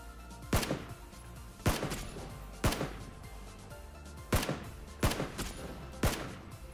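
Six heavy gunshots in PlayerUnknown's Battlegrounds, spaced about a second apart with booming echo tails, loud and close with no talking over them.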